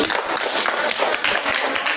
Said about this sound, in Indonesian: Tepuk tangan buat ketua kelas